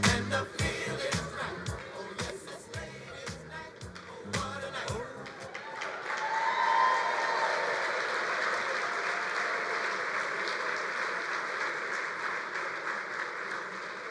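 Audience applause at a bowling association convention's annual meeting, a dense, steady wash of many hands clapping that swells after some early talk and distinct claps, then holds loud and continuous to the end.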